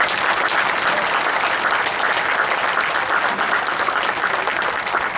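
A crowd gathered for a memorial run at Fort Lee gives sustained, even applause to Gold Star family members, thick clapping that holds steady for several seconds with no speech over it.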